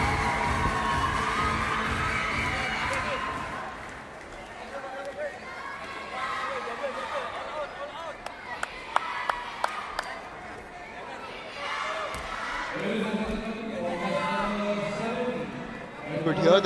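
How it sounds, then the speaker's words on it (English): Loud crowd cheering and shouting at a sepak takraw court during the ISTAF Sepaktakraw World Cup in Bihar, India, as the Indian women's team enters; a sustained roar with whoops and chatter, swelling again at the end. "hear the loud cheer because the Indian women's team has entered the court number 2 for their game"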